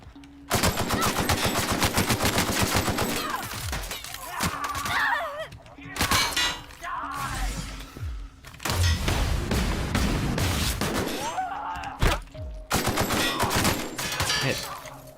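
Long sustained bursts of automatic rifle fire in The Outer Worlds, loud and close with brief pauses between strings of rapid shots, thuds mixed in, and voices talking intermittently over the shooting.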